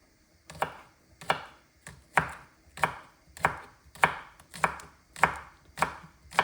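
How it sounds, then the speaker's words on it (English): A knife chops spring onions steadily on a cutting board, about a dozen crisp, evenly spaced strikes, close and clear with no talking. "we will chop the spring onions"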